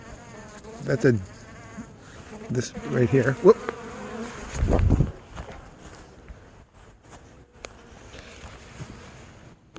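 Loud, continuous buzzing of many bees close by at a hive where bees from another hive are fighting, with a few brief spoken words and a thump partway through.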